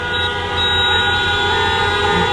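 A long, steady horn blast sounds loud and unbroken, a flat sustained tone with stacked harmonics holding for several seconds.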